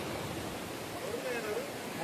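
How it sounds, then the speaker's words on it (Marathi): Stream water rushes steadily in a constant broadband wash, close and even, with a faint voice underneath. "बघा पर्याचं पाणी गातय गाणे."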